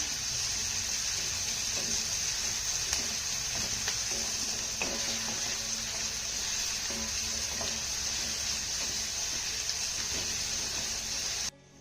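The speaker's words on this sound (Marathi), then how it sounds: "आता हा कांदा आपल्याला छान असा मौसूद होईपर्यंत परतून घ्यायचा आहे" Chopped onion sautéing in a pan for a jowar-flour breakfast dish, a steady broadband sizzle running loud and close throughout with faint clinks of stirring, no talk.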